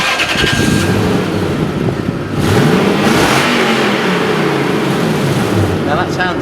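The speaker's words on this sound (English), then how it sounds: "Now that sounds a bit better because the exhaust is blowing" A Lexus LS430 engine revs with a blowing exhaust, a loud, rough rising and falling roar that swells around the middle, with a voice talking over it.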